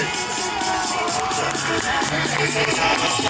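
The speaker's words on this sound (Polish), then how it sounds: "Wielkie brawa dla Sary" Crowd at the finish line of a quarter-marathon race in Piła cheers and claps for a woman finishing second, a continuous loud roar with whoops while music plays underneath.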